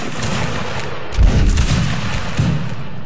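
Musket volley fire from a line of soldiers in the video game Mount & Blade, a loud rolling burst of overlapping shots around the middle, then a second cluster of reports, ongoing battlefield noise throughout.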